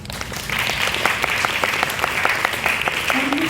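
A round of applause from a school audience after a first-year student project presentation, dense steady clapping at moderate loudness with a faint voice near the end.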